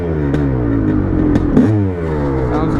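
Rebuilt 1989 Honda CR500R two-stroke dirt bike running close by, a loud, steady engine note with a quick throttle blip and a dip in revs near the end.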